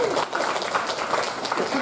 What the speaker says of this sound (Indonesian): Tepuk tangan Serayu